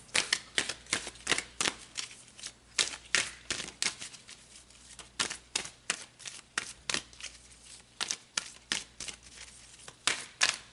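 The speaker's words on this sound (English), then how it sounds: "So let's pull some more cards." Tarot cards are shuffled and pulled in a steady run of crisp, close riffling snaps and slaps, repeating at an uneven rhythm throughout with no talking.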